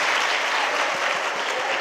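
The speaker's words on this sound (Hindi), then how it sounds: "तालियां बजाओ भैया इस बात पे।" Steady crowd applause fills a religious discourse hall with Muni Veersagar ji Maharaj, dense and even throughout the short stretch with no voices over it.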